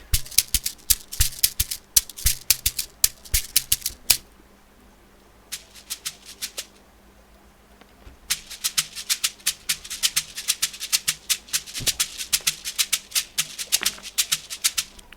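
Afrobeat shaker loops from a sample pack, crisp rapid shaking strokes in rhythmic bursts, dropping out for a few seconds before resuming densely.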